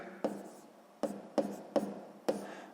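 Five quick scratchy strokes of writing math on paper or a board, close and faint, arriving in short irregular bursts.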